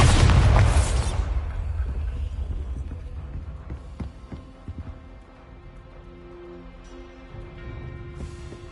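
A Bombarda spell detonates in Hogwarts Legacy with a loud booming blast, then rumbling debris and a long fading tail of crackles and settling clatter.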